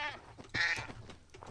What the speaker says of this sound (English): That is a goat.